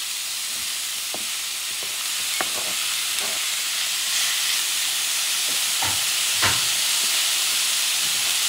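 Meat hits a hot pan while spicy dirty rice is cooked, giving a loud, continuous sizzle and hiss with a few soft clinks and knocks of stirring scattered through it.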